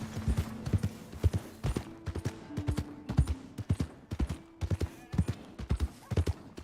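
Horse hooves clip-clop in a steady trotting rhythm in the video game Red Dead Redemption 2, fairly close, with faint voices and a low tone in the background.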